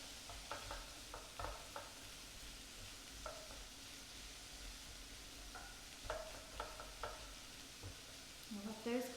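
Zucchini sizzling in a pan for black bean tacos: a quiet, continuous fry hiss with scattered clicks and scrapes of stirring, growing busier toward the end, and no talking.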